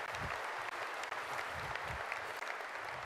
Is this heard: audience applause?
yes